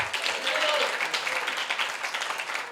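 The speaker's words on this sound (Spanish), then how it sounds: "Denle un aplauso al Señor." A church congregation gives a sustained round of applause in praise during a service, a continuous wash of clapping at moderate volume with a voice speaking over it.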